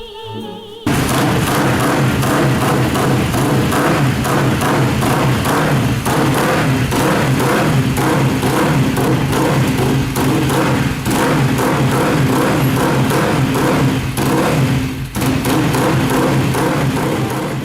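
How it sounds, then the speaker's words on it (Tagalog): A Ducati Supermono 550cc single-cylinder motorcycle engine revs loud and close for a long stretch, a dense, pulsing roar with throbbing beats, heard alone. "Pakinggan nyo ang tunog ng Ducati Super Mono."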